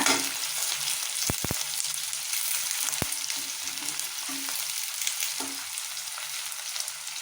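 Curry leaves and a dried red chili frying in a pan for a banana flower stir-fry, a steady close sizzle with a few sharp crackles and utensil clicks, no voices.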